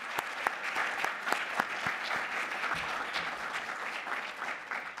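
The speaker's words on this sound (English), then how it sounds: "I just want to give a round of applause to all of my colleagues." An audience at a Smithsonian and NEH history film forum applauds, a steady patter of many hands clapping in a hall, moderately distant and sustained throughout.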